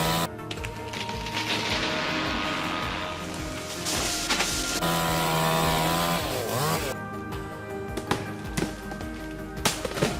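Chainsaw cutting into a tree, its engine a loud, steady snarl with pitch shifts as the bar bites and eases, continuing throughout with brief drops near the end.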